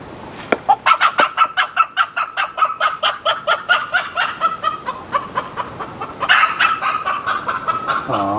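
A broody hen sitting on eggs clucks angrily, a rapid, loud run of regular close-up clucks that swell into a harsher, more agitated burst toward the end.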